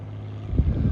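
A 1951 18-foot Penn Yan President wooden boat with a newly rebuilt engine runs on Lake Champlain, its steady low motor drone swelling louder in the second half amid wind buffeting the microphone.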